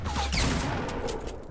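Gunfire in a Fortnite Battle Royale match, a brief burst of sharp shots mixed with clattering impacts, loud and close, over in under two seconds.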